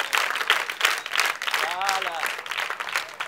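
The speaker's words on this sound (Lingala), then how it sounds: "Nous pouvons d'abord les applaudir avant." Applause from an assembly of school pupils at EP Mapela honouring guests, a burst of scattered clapping from a crowd with someone speaking briefly over it.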